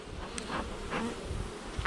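Angry honeybees swarm around an opened hive during a fall honey harvest, making a dense, steady buzz with individual bees swelling louder as they zip close past.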